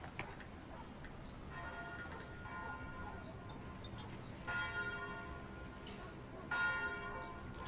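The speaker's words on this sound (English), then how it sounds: "I like the bells." Church bells ring at a distance, several resonant strokes swelling and fading over a quiet indoor background.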